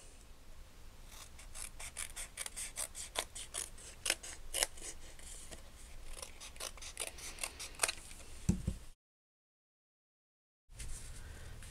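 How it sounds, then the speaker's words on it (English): Paper snips cut through card stock for a handmade greeting card: a close, steady run of crisp snipping clicks that repeats for about eight seconds, then goes quiet. "or cut it with the paper snips"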